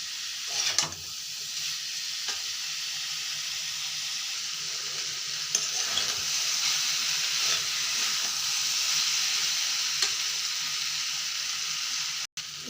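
Sliced vegetable vines frying and being stirred in a pan over low heat, giving a steady close sizzle with occasional scrapes and stirring knocks throughout, no voices.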